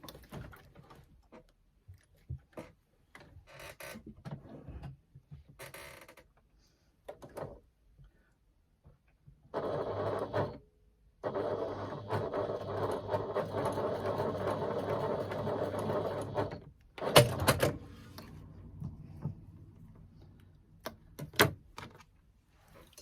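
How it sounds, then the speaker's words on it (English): A sewing machine stitches across joined fabric straps in two steady runs of even, buzzing motor whirr, separated by a brief pause and bracketed by handling clicks and knocks. "And I'm going to stitch across that mark that I've made."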